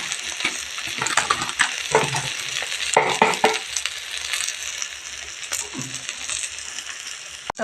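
Drumstick flowers fry in a pan, with a steady oily sizzle and frequent scraping, clinking strokes of a spoon stirring them. The stirring comes in irregular bursts that are loud and close.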